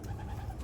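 Pigeons cooing softly inside a loft, a low continuous murmur of coos fairly close with no talk.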